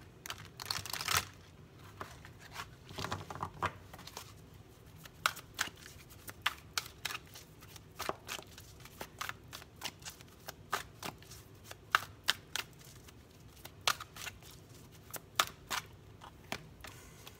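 Tarot cards from a deck being shuffled and drawn on a table, with a rapid flurry of crisp riffling early on, then a long series of separate light snaps and flicks, close and fairly quiet, with no talking.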